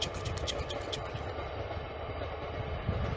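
A train passes along a line in quiet countryside, a steady low rumble with faint scraping from the rails, moderately distant and low in level, with no talk over it.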